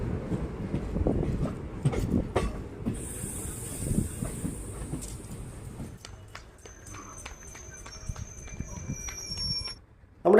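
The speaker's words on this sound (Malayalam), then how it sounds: "നമ്മുടെ ട്രെയിൻ എങ്ങനെ ഇപ്പം പാണ്ഡവപുര റെയിൽവേ സ്റ്റേഷനിൽ ഇപ്പോൾ ഇതാ വീണ്ടും പുറപ്പെട്ടിരിക്കുകയാണ്" Chamundi Express pulling out of Pandavapura railway station, a steady rumble and rhythmic clatter of wheels with a hiss and high squeal, then a sudden loud burst at the end, with voices in the background.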